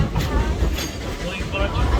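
A Dollywood amusement-park train rolling toward the Iron Mountain Summit in the Smokies, its steady rumble and clattering wheels running throughout, close and fairly loud, with faint chatter in the background.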